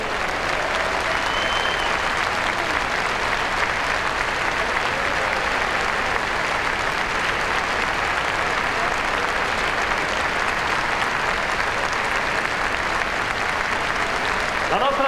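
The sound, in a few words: applause in a basketball arena honoring a player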